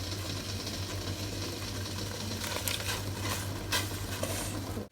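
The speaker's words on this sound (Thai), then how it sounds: "น้ำใกล้จะเดือดแล้วนะคะ" A pot of water heating toward a boil on a stove, giving a steady bubbling hiss with a low continuous hum underneath, fairly loud and constant throughout, with no voices.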